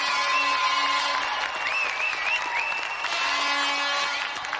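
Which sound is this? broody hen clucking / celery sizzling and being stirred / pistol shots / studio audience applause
studio audience applause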